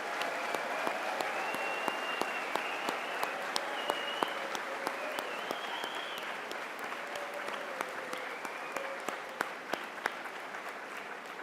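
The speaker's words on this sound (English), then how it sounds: "Please join me in a round of applause to thank all the men and women who have served our country." Large audience at a Central Lakes College commencement in Brainerd applauding military veterans, a long, even roar of clapping filling the hall with a few sharper individual claps standing out and a faint voice behind.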